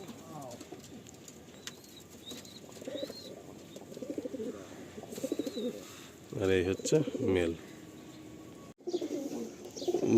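Pigeons in a loft coo softly in repeated low, throaty phrases, with a louder burst of cooing close by near the end, while someone talks over them.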